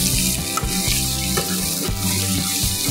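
Onions frying in a pan, a dense close sizzle with a few stirring scrapes and clinks over three seconds, loud and continuous.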